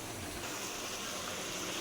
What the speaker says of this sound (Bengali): তো এখন আমি ঝোলের পানি দিয়ে দিব